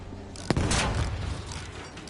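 A sticky grenade goes off in the Battlefield V shooter game, a sharp crack followed by a loud, broad rumbling blast that rolls on and slowly fades, with scattered gunfire around it.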